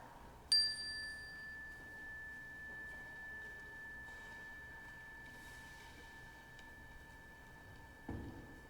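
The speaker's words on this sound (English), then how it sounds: "by ringing the chime, this is our centering moment to all come into this space" A single chime is struck once, ringing with a clear sustained tone that slowly fades over several seconds in a quiet room, with a soft thump near the end.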